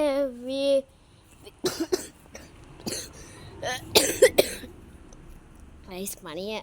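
A person with a chest cough coughs in several sharp, close bursts and clears their throat, with stretches of talking between the fits.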